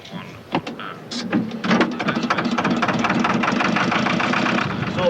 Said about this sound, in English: John, start the engine, John.